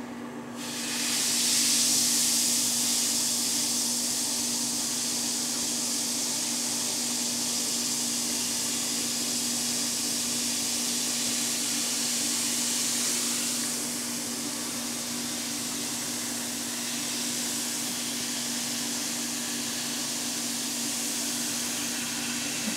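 Something fizzes vigorously in a science-experiment demonstration, giving a steady, dense hiss that swells near the start and then holds level for over twenty seconds, close and continuous with no talking.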